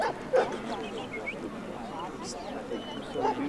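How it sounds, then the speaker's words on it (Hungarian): A tired, sleepy dog gives short yips and whimpering barks under a voice that keeps talking throughout. "Lusta kutya. Álmos most már fáradt."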